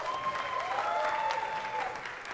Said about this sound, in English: Can we give another round of applause to Thunder Basin?